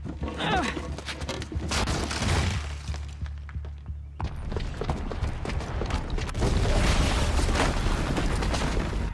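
A booby-trapped bomb goes off in the video game Horizon Zero Dawn, a loud rumbling blast with crashing debris and mechanical clatter, a brief lull, then a second heavy surge of booming destruction.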